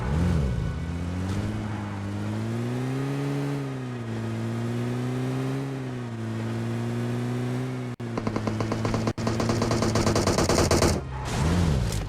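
M762 assault rifle firing in a video game, heard as a rapid burst of automatic shots over a steady droning vehicle engine, loud and close, with no talking.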